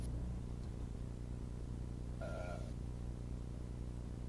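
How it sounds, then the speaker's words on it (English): A cat meows once outdoors, a brief, fairly faint cry over a steady low background hum, with no talk. "my cat is going crazy outside"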